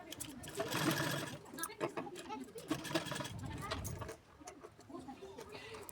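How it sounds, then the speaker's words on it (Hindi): A sewing machine stitches a katori cup into blouse fabric in short, quick runs of rapid needle clatter, close by, with someone talking over the stitching. "हल्के हाथ से उसको गोल गोल राउंड देते हुए हमें उसकी स्टिचिंग कर लेनी है"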